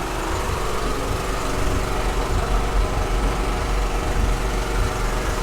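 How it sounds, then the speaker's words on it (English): An air compressor runs steadily at an outdoor car show, a constant mechanical drone near and loud throughout with no break or change in pitch. "Sorry about the compressor noise."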